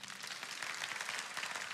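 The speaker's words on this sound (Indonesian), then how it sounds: "Yang percaya kasih tepuk tangan untuk Tuhan." A church congregation applauding during a sermon: a dense, steady wash of many hands clapping together, fairly close and continuous throughout.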